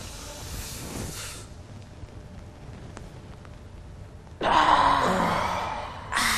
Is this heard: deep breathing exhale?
yes